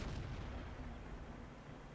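A tank cannon shot in World of Tanks, from a Panzer VII Löwe tier 8 premium heavy tank, booms loudly at the start and rolls into a long, dense rumbling decay.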